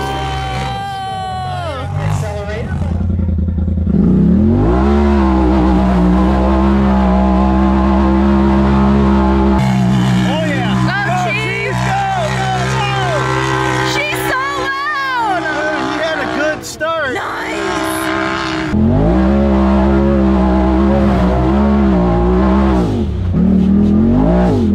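Can-Am Maverick X3 Turbo S and Polaris RZR RS1 side-by-sides racing up a snowy ski hill on studded tires, engines revving and whining loudly and continuously, pitch rising and falling as they climb, with people talking over the roar.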